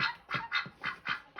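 A pet duck gives a rapid series of about six harsh, raspy squawks in a regular rhythm, close by and fairly faint, with no talking over them.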